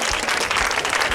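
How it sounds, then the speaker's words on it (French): Applause from an audience at a Mother's Day celebration, dense steady clapping filling the whole short moment at an even, fairly loud level. "On applaudit."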